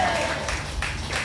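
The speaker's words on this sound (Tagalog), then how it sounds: "Yung palakpak ng mga ma-answered prayer." Congregation at a lively El Shaddai praise gathering clapping and applauding together, a dense steady patter of many hands filling the room at moderate volume.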